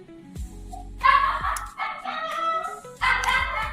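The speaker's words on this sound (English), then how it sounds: "Is that your dog?" A dog barks in three loud, close bursts with short pauses between them, sharp and yelping in tone, with no talk over them.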